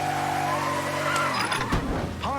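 A car in the video game Mafia III, its engine roaring loud and close while the tires squeal in a long skid that ends in a scraping rush, with no talking.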